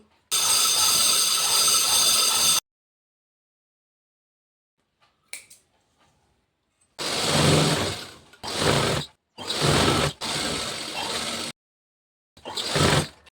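A sewing machine stitches the back piece of a blouse cut from a saree, running in several loud bursts of whirring separated by pauses, with no one talking.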